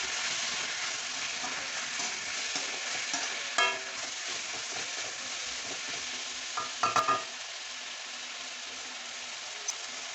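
Onion, ginger, garlic, green chilli and curry leaves sautéing in a pan, a low steady sizzle with occasional scraping stirs and a few sharp clatters of the spoon.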